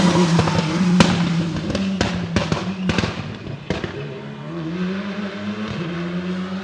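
A rally car at the Rallye Côte Fleurie 2024 roars past with a rising engine note, crackling backfire pops and gear changes, close and loud before trailing off into a lower drone.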